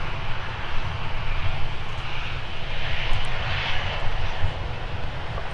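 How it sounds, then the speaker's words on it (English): Airliner engine roar from a Delta jet landing on runway 35 at Minneapolis-St Paul airport, a steady, sustained broadband rumble at moderate distance with no voices. "Delta 170 landing on runway 35"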